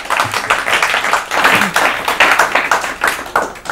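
A studio audience claps for a contestant on an Urdu-language quiz program after a correct answer: loud, close group clapping in bursts that swell and dip, continuing for several seconds without talk.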